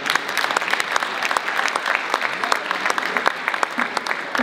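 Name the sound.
audience applause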